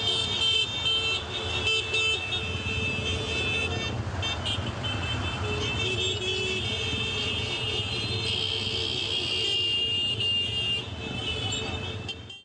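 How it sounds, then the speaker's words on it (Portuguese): Car horns honk continuously as correctional officers leave for the cemetery in a funeral procession protest on Avenida Ceará, layered tones steady and loud over road traffic for the whole stretch. "Na saída para o cemitério, os agentes revoltados fizeram um buzinaço."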